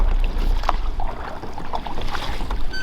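Children row a small boat with a broken motor back to port with oars, the strokes a faint, irregular splashing under steady, loud wind buffeting the microphone.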